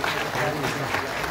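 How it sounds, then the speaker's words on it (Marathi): A crowd claps during an award ceremony honouring municipal council staff in Saswad, sustained applause mixed with voices and a hall-like ambience. "जोरदार टाळ्या होऊन जाऊ द्या"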